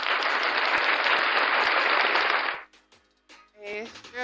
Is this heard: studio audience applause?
yes